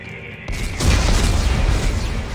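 Explosives detonating in Dead Space 3, one loud deep boom that erupts suddenly and rolls into a sustained rumbling blast close up.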